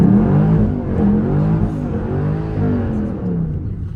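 Chevrolet SS with an LS3 V8 and muffler and resonator delete, revving hard with a deep, rumbling exhaust drone that holds loud and steady for four seconds, rising and settling in pitch.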